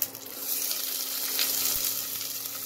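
Chopped onion hitting hot oil in a pan, giving a steady close sizzle that stays even and moderately loud throughout, with no voices.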